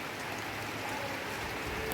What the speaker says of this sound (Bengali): এই যে বৃষ্টিটা বেশ একদম ভালোই জোরে এসে গেছে বৃষ্টিটা।